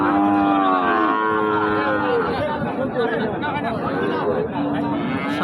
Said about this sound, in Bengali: বকন গরু দেখতে পাচ্ছি আমরা